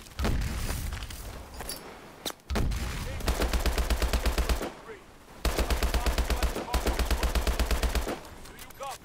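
Gunfire in the video game Call of Duty: Advanced Warfare, rapid automatic bursts rattling in long strings with short pauses between them, close and loud, with soldiers shouting over the shooting.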